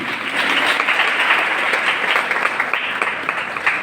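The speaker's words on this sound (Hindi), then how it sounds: "जोरदार तालियां हो जाए" Audience applause at a gratitude ceremony in India, a dense, continuous wash of many hands clapping together, fairly loud and close, holding steady for a few seconds.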